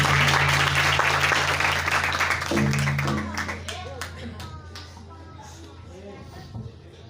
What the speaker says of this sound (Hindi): कि जिसने शिफा दी इसके लिए जोरदार तालियां